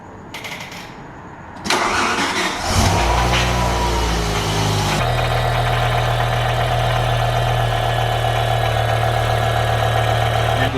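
A rebuilt V10 in a manual BMW M5 E60 cranks, catches and roars to life after a brief stumble, then settles into a loud, steady, close idle that holds without a break.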